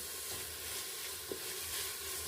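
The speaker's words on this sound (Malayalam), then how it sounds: "ഒരു തക്കാളി കട്ടി ചെയ്ത് ചേർക്കുക നന്നായിട്ട് ഇളക്കുക സ്വല്പം മല്ലിയില ചേർക്കുക" Chopped tomato and coriander leaves are stirred in a biryani pan, producing a faint, steady hiss of frying with a single soft utensil tap, quiet and without talk.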